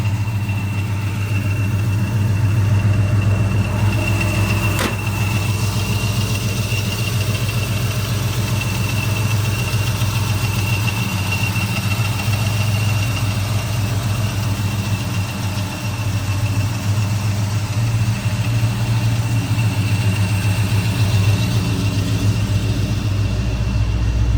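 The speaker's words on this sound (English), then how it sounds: "So This is a rebuilt 350 engine that's been taken out of the car and redone and put back." A rebuilt 350 engine in a 1965 Chevrolet Malibu Chevelle idles at a steady, even rumble. It is close and constant throughout, with no talking.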